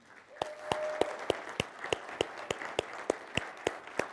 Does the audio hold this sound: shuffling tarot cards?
no